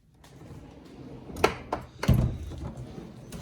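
A plier drawer on a tool chest is pushed shut, giving a couple of sharp metallic clicks followed by a heavier thunk as it closes, close by with quiet room noise before and after.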